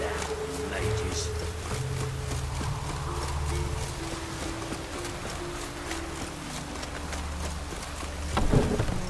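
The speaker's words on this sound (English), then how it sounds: "Rain again." Steady hiss of rain in The Witcher 3 video game, a dense continuous wash with rhythmic hoofbeats of a horse clip-clopping underneath and a brief louder burst near the end.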